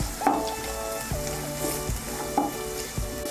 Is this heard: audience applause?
no